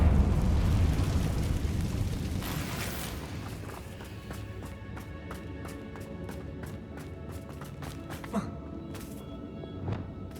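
A Confringo spell blast in Hogwarts Legacy: a loud rumbling burst at the start that fades over several seconds into a quieter bed of clicks and ticks, with a few small pops near the end.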